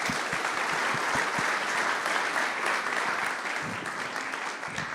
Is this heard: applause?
yes